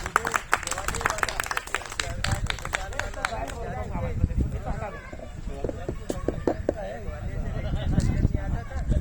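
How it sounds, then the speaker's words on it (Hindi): An audience at a Republic Day poetry recital applauds for fallen soldiers, loud uneven clapping that rises and falls, with a voice speaking over it. "एक बार जोरदार तालियां उन लोगों के लिए जो हमारी सीमा पर शहीद हो जाते हैं।"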